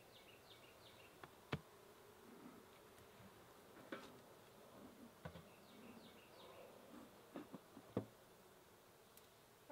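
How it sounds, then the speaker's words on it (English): Bees buzzing at a beehive, a faint, wavering hum of insects close by, broken by scattered sharp clicks and knocks; no one speaks. "Checking the bees."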